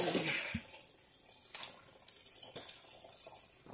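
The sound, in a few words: water from a tap filling a bucket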